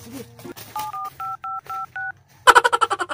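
Telephone keypad tones beep close by as a number is dialed, six evenly spaced two-note presses, followed by a rapid pulsing ring or busy signal at the end.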